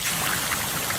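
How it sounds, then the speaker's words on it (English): A natural waterfall, used as a sound effect, gives a brief, dense hiss of rushing, splashing water that fills the moment alone. "When this is the sound of a waterfall in nature"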